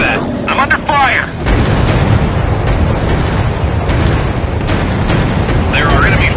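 Gunfire and explosions in the warplane combat game Warplanes: Battle Over Pacific: a dense, loud, continuous roar of booming fire and engine noise, with brief radio-style voice chatter at the start and end.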